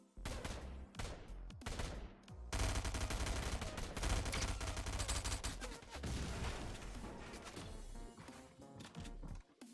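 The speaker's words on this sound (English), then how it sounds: "Who are you shooting at?" Rapid bursts of gunfire in the video game Fortnite, loud and sustained, with volleys and automatic fire layered over one another and a few sharp earlier shots before the barrage.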